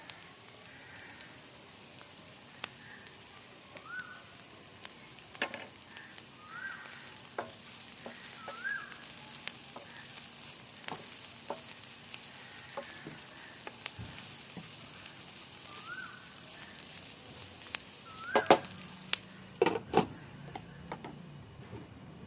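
Curry leaves and green chillies frying in hot oil for a mutton dum curry, a steady low sizzle with scattered pops and crackles and a few sharper spits near the end, close and moderately quiet with no talking.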